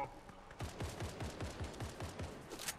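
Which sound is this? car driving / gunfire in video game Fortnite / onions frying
gunfire in video game Fortnite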